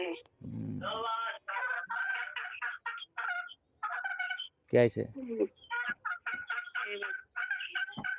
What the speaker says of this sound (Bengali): কত বড় বড় মুরগি ডাকতেছে দেখছো